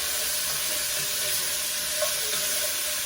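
Vegetables stir in olive oil in a pan for beef stew, giving a steady close sizzle with soft scraping and stirring sounds throughout.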